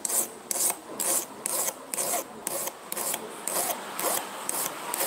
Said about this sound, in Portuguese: Vamos pegar uma lima. Fazer um acabamento melhor aqui